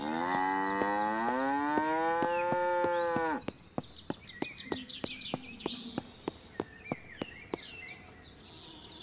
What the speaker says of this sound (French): on va dire bonjour aux vaches